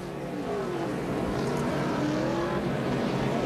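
A NASCAR Nationwide Series stock car, No. 22, running at speed on the Richmond oval, its steady engine roar with gliding pitch sweeps as the field passes, continuous and fairly loud throughout without talk.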